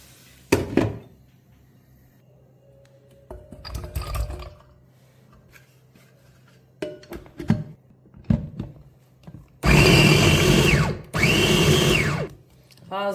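Kitchen blender whirring loudly in two bursts as peppers and tomatoes are blended for pizza sauce, preceded by scattered clunks and handling noises.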